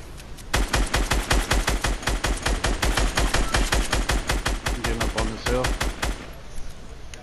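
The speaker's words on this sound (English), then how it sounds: "Who's shooting at that shit?" Rapid gunfire in Fortnite during a squad match, a long steady stream of sharp, loud, evenly spaced shots that runs for several seconds before thinning out and stopping.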